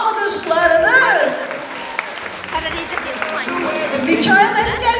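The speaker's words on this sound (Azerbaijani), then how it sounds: "Tuncay Şirinli'ni alqışlayırsınız, bravo!" A crowd applauds a medal winner at an award ceremony, with a broad burst of clapping under an announcer's amplified voice that continues talking over the applause.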